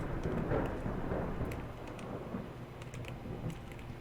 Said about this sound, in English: That is loud thunder.